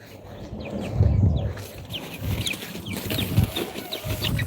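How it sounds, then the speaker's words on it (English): Chickens cluck in a farmyard, with repeated short clucks and murmurs close by over rustling and low background noise. "I hate wrangling these stupid chickens."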